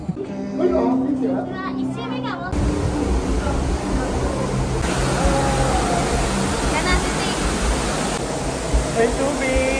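Water rushing and sloshing through the walk-through water exhibit at teamLab Planets in Tokyo, a steady loud wash with splashing from people wading, while children and adults talk and call out over it.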